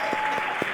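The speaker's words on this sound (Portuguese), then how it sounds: "Vocês podem dar uma salva de palmas para essas pessoas?" Sustained applause from a church congregation honouring a group of people, a steady dense wash of clapping throughout with no voices over it.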